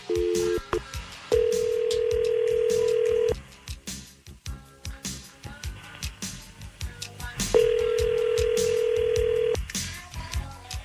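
Dialing tones are followed by a steady telephone ringback tone that repeats, with chatter and background noise between the rings.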